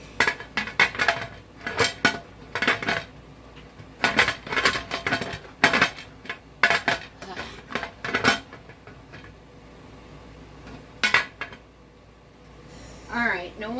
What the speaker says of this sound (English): Now the hardest part for me is getting this lid on.